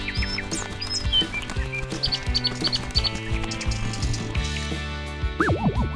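A little bird lands in a cartoon park scene and gives several short, high chirps over a busy backdrop of bright music and playful sound effects.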